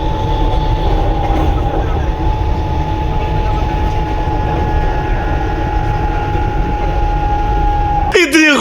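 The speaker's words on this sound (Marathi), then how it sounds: "फायनली अर्ध्या तासानंतर ट्रेन आमची आलेली आहे." Local train pulling into a station, a steady droning rumble with a sustained tonal whine and light clatter, then a sharp wavering horn or brake squeal bursting in at the very end.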